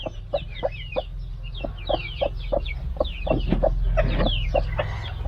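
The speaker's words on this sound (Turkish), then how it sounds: "Burada olan bir tavuğumuz var." A chicken on a rural farm clucks in a steady, rhythmic series of short, close calls, growing busier and louder toward the end, with no talk over it.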